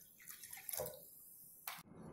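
Soda water is poured into a jug for fruit and mint lemonade, giving a faint, close liquid splash and trickle with a few drips over about two seconds, no voices.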